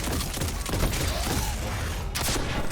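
Rocket launcher fire in Destiny 2 during a Lost Sector fight against barrier champions, a dense, loud burst of blasts and explosions over continuous combat noise, with a sharp added blast near the end.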